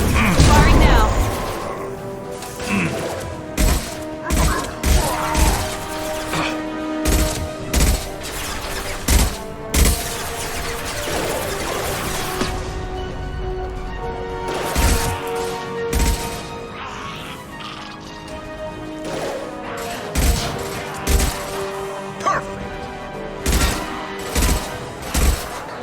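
Combat in the video game Mass Effect 2 delivers repeated bursts of gunfire and heavy impacts in an irregular rhythm across a long stretch, loud and close, with voices and game sounds mixed in.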